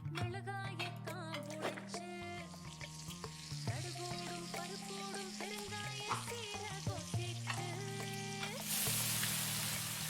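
Food searing and sizzling in a pan while being stirred in the cooking video game Venba, a steady close fry under gentle melodic music, swelling louder near the end.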